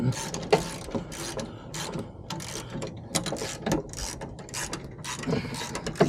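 A ratchet tightens the nut on an adjustable rear toe arm during a car suspension install, giving rapid repeated clicking in uneven bursts over several seconds, close and fairly loud.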